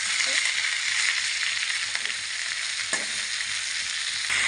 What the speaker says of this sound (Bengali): এখন আমি এক এক করে শাক দিয়ে দেবো